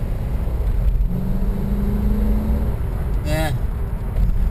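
A car with an automatic transmission accelerates with a moderate engine hum that rises briefly in pitch, followed by a short whooshing sweep, against steady background noise.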